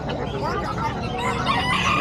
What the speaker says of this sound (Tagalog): Sa mga naghahanap ng mga quality ng manok, dito kay Boss Noga, marami.